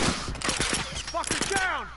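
A rapid string of pistol shots rings out in a video game, a quick, punchy rhythm of about a half-dozen cracks close together, followed by game tones, with voices talking underneath.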